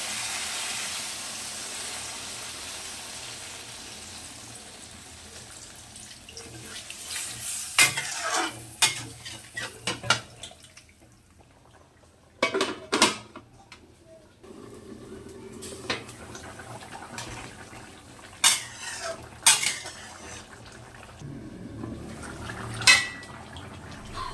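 Ginger and vegetables cooking in a pot, with a spoon scraping and stirring against the metal in bursts of clinks and knocks over a soft steady simmer and faint sizzle, close by with no voices.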